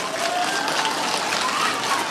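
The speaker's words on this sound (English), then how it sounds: "Can we clap for these very brave teachers?" Second- and third-grade children at an elementary school clap for their teachers, dense, steady applause from a roomful of kids that fills the whole stretch.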